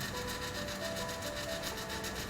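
The auger motor in a Breckwell pellet stove runs in one steady, low, rasping grind that stays close and constant, with no voices.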